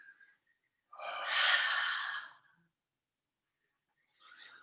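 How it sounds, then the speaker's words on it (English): A single deep breath during a calming meditation practice, a long soft exhale lasting over a second, followed by quiet and then the start of another faint breath. "Take 2 more breaths."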